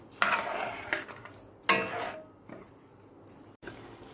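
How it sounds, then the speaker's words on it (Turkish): Haşıl being stirred into water in a pot, with a few distinct scraping swishes of a spoon spread across the stretch and quiet pauses between them, close and moderately loud, with no speech. "Ve şöyle iyice karıştırıyorum."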